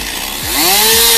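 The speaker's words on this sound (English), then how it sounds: "You really need to watch this video to see how fast a chainsaw kicks back." A chainsaw on a tree-cutting job revs up loudly, its engine pitch sliding upward and settling into a steady, close, high whine.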